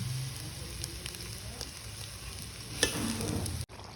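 Rice for pulao with turmeric, garam masala and bay leaves is stirred in hot oil in a pot, giving a steady close sizzle with light scraping that cuts off abruptly just before the end.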